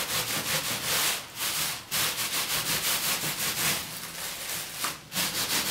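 Hands gently rub nuno felt scarf fabric in steady back-and-forth strokes, a soft close scratchy swishing with brief pauses between passes.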